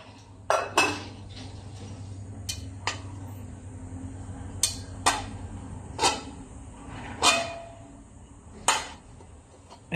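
A ladle scoops cooked rice with a scorched crust from a pot, giving a series of sharp metallic clinks and scrapes spaced through a quiet kitchen.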